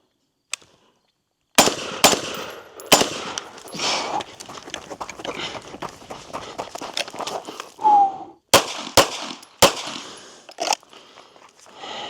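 Rifle shots fired at an outdoor shooting range during a low round count practice session, several sharp loud cracks spread across the clip with quieter clatter and movement between them.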